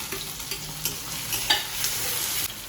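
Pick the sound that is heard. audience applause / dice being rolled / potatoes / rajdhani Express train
potatoes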